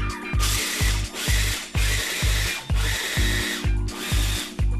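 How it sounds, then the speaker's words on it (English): A small food processor chops a cup of pine nuts, its motor pulsing in about eight short, loud, even bursts with brief pauses between them, no voices present. "chop 1 cup of pine nuts. To do this simple and easy, just add it to a small food processor"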